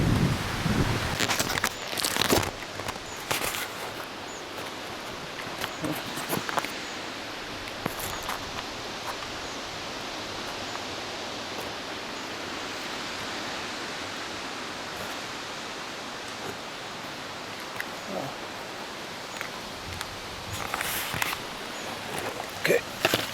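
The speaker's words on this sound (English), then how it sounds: "It's getting more windy now" Wind blows outdoors in southern Norway near a mountain cabin in a steady broadband rush, with some gusty swells and scattered close clicks and rustles.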